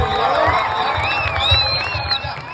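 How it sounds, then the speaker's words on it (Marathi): Crowd at a Mumbai Govinda festival cheering and whooping for the Shivsai Govinda troupe's seven-tier human pyramid, a continuous loud roar with scattered shouts and whistles, clapping blended into the din. "एकदा जोरदार टाळ्या वाजवत यांच्यासाठी 7 ताराची सलामी"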